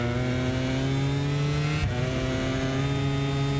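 A rival motorcycle engine drones in MotoGP 24, a loud sustained high buzz with a brief dip in pitch midway, as if the bike passes close by.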